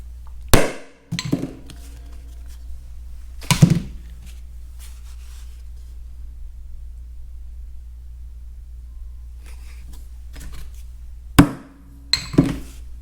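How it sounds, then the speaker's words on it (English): Hole punches are struck through a thin rubber sheet to cut a seal for a Farmall tractor light, giving a few sharp, close hammer blows spaced seconds apart over a low steady hum. "we have the center hole punch and the outside diameter punch"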